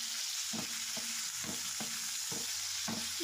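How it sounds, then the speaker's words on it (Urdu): Chicken sautéing in a pan over a high flame gives a steady close sizzle, broken by roughly six rhythmic stirring scrapes and clatters, with no voices. "اور چکن کو ہائی فلیم پر سوتے کر رہی ہوں."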